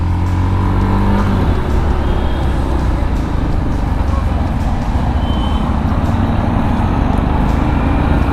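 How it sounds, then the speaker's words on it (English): A Yamaha FZ-X motorcycle engine runs loudly and continuously, with a low steady drone and a rising pitch sweep early on as it revs, heard up close with wind and road noise while riding. "Wow, this bike really sounds well."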